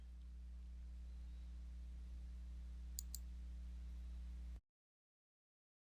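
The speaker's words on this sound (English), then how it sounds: "Now we'll click the Preview Approvals button." A single mouse click on a software button, two short sharp ticks close together over a steady low computer hum, then silence.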